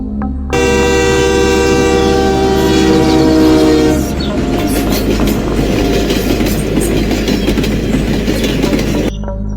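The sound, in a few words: train horn and approaching train, animated story sound effect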